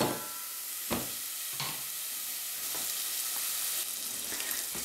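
Bacon fries in a pan over high heat, giving a loud, continuous close sizzle with crackles and a few sharper spits and pops. No talk.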